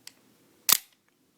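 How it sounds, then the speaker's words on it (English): A single sharp click from an FNS-9 pistol as the trigger is pulled during disassembly. A faint tick comes just before it, and the click stands alone in quiet with no talking. "pull the trigger"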